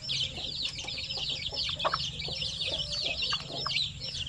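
Week-old native Zampen chicks peeping in a group, a dense stream of high, rapid chirps with some lower clucks and rustling nearby, continuous and fairly close.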